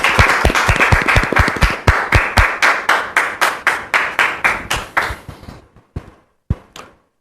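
A live audience greets a guest on a French talk show with loud, dense applause that breaks into individual claps and fades out, a few last claps trailing at the end.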